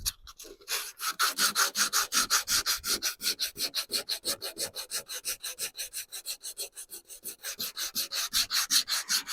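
Someone sands a car bonnet by hand in steady back-and-forth strokes, a fast, even rhythmic rasping that runs for the whole stretch with no talking.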